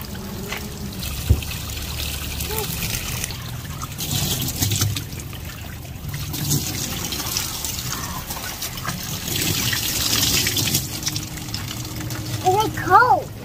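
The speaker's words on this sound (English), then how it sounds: "Por eso que siempre está botando agua" Water pours steadily out of an overflowing tank outdoors, a continuous splashing trickle with shifting intensity, heard under occasional distant voices and background noise.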